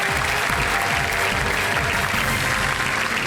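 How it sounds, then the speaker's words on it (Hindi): A studio audience on a quiz game show breaks into continuous, loud applause, many hands clapping densely and evenly from start to finish. "जनता ने पहली ताली बजा।"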